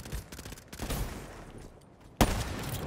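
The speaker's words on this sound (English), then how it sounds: "Oh, this is a shotgun." Call of Duty Black Ops gunfire with a shotgun, a few distant shots early on, then one loud, sharp blast near the end over soft game ambience.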